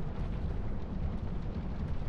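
Pyromancer fire attacks in the video game Dark Souls 2 rumble as a continuous, deep roaring blast with crackling bursts, steady and moderately loud throughout.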